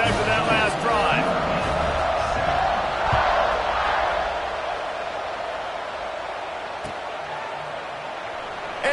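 A stadium crowd roars steadily at a kickoff in the Madden football video game, a loud, dense wash of cheering that eases slightly toward the end, with a voice talking over it.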